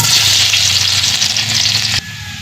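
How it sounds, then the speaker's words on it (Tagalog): Garlic frying in hot cooking oil, a loud, dense, close sizzle that runs steadily before dropping abruptly to a quieter hiss near the end, with no talk. "Ayan, mainit na nga mantika. Pwede na nating ilagay ang bawang."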